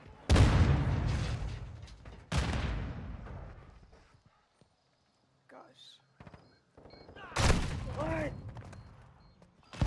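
Frag grenade blasts and bursts of gunfire in a Call of Duty match: heavy booming explosions at the start and again near the end, separated by quieter gaps with scattered shots and faint game sounds.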